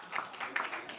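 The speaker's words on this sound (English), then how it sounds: "Give a round of applause for Anthony" Audience at a live comedy club in Toronto claps for a comedian taking the stage, a brief burst of dense, crisp hand claps lasting about a second with no talking.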